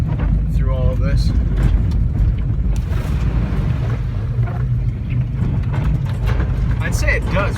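A lifted four-cylinder Honda CR-V on 31-inch tires drives at about 20 to 25 mph over rough terrain, with a constant loud rumbling and rattling, wind buffeting, and someone talking over it.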